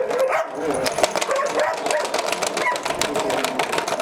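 A Belgian Malinois barks in a quick run of sharp, repeated woofs close by, over a busy background of mechanical hum on a dog farm.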